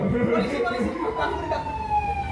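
An ambulance siren wailing with smoothly sliding tones, moderately loud amid chatter and laughter from several people talking over it.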